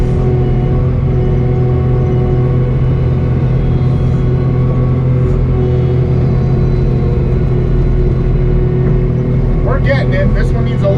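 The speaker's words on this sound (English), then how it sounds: "He's over there on the little tractor helping me." A small tractor engine runs steadily in a low rumble while filling dirt into low spots, with a person talking over it.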